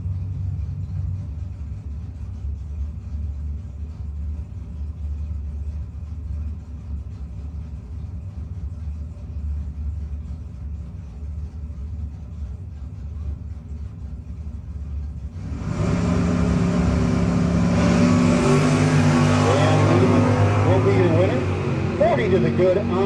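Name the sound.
Camaro and Nova drag racing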